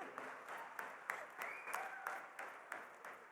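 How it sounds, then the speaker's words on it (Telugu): An audience applauds, a short burst of dense hand clapping heard from some distance, fairly faint and steady for a few seconds. "వాళ్ళందరి కోసం మళ్ళీ ఒకసారి క్లాప్స్ కొట్టండి."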